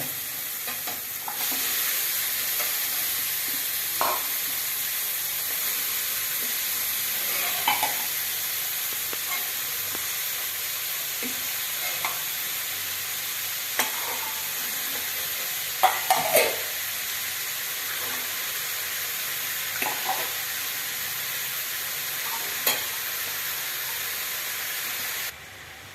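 Mixed vegetables for vegetable bath cook on a low flame in a pan, a steady soft sizzle and hiss filling the background while occasional spatula scrapes and clinks punctuate it, with no talking.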